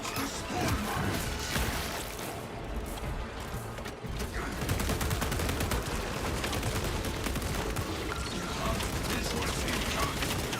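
Video game gunfire rattles in continuous rapid bursts with mechanical clicks and clatter, loud and dense across the whole stretch, a faint voice barely present underneath.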